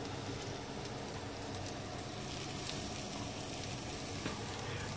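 Onions sizzle and fry in a pan inside an RV kitchen, a steady, even crackle that holds at a moderate level throughout with no talking.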